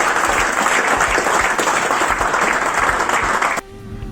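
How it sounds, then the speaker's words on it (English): Loud, dense applause rolls through a crowd at a precision rifle shooting match in Monarto, a continuous wash of clapping that cuts off abruptly near the end, leaving quiet room tone. "Another big round of applause to all of those shooters"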